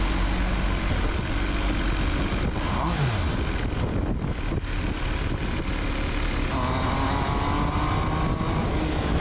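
An MV Agusta Dragster 800 RR motorcycle rides through a city, its engine droning steadily and loudly throughout, with a pitch change partway as it shifts and accelerates, and rushing wind noise.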